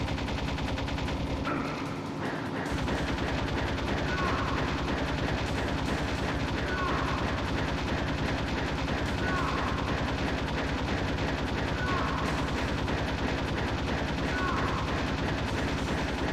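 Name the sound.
gunfire from shooting at a boss, Metal Gear Solid video game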